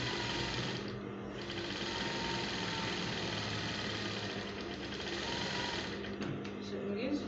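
A sewing machine stitches a Fila-style African men's cap, running in a steady, continuous mechanical whir with a brief pause near the end.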